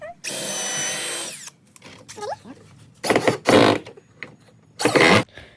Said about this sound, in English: Before adding the wood screws to prevent the wood from splitting up, I'm adding pilot holes here.